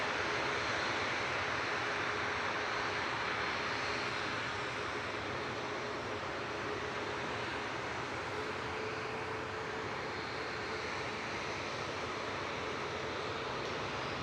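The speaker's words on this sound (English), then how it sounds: "EasyJet from Lisbon just touching down now" An EasyJet airliner from Lisbon touches down at Manchester Airport, a continuous wash of jet engine noise and rushing air that is loudest at the start and eases slightly, with a faint steady whine running underneath and no voices.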